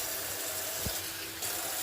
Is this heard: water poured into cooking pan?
yes